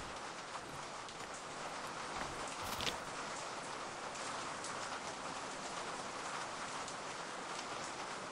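Steady rain falls outside a street food kiosk, a dense even patter that fills the whole clip at moderate loudness, with one brief louder splash or rustle near the middle and no talk.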